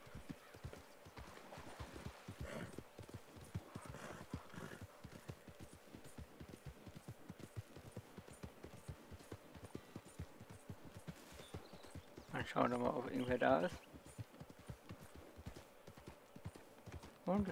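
Steady clip-clop of horse hooves in a video game at a brisk even rhythm, fairly faint, with a short whinny-like burst partway through.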